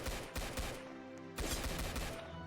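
Rapid pistol gunshots in a Roblox zombie attack game, a dense run of close, loud shots with a brief pause before the firing resumes.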